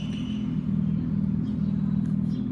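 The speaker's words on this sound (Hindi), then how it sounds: "और हमारी गाड़ी जो है वह स्टार्ट हो गई है।" A Revolt 2022 electric motorcycle starts up and settles into a steady, low, close humming drone that holds evenly throughout.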